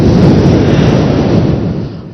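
A voice imitates ordinary wind as a loud, breathy, rushing roar that holds steady for about two seconds before easing off slightly at the end.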